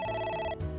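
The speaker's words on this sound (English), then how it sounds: "It won't stop ringing." A single short burst of electronic telephone ringing comes from the video game AI: The Somnium Files, cutting off after half a second into low game background sound.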